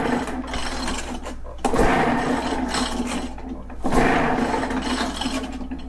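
An Echo PB-500H leaf blower with a poor idle is pull-started with the choke off and the throttle full open, giving repeated long rasping cranking strokes, close and loud, about two seconds apart.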